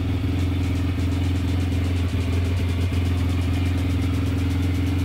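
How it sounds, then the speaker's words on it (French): A small engine rated around 13.6 horsepower runs on a dynamometer bench during its first warm-up, holding a steady, loud, even drone with a constant pulsing hum close by and no speech. "première chauffe moteur"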